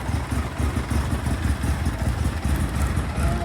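Up close, a two-cylinder engine idles with a steady, low, pulsing throb and no voices over it.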